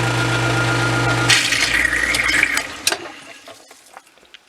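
A household sump pump runs with a steady motor hum, then dirty water gushes out loudly for a couple of seconds before the flow tapers off into scattered trickles and drips.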